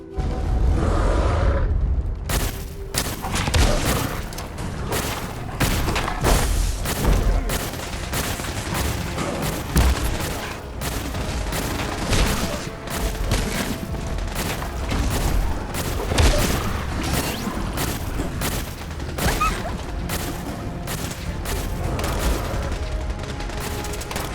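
An Institute assault squad battles Gator Claws in Fallout 4, with dense, sustained gunfire: rapid cracking shots and bursts repeating for over twenty seconds, punctuated by heavier booms.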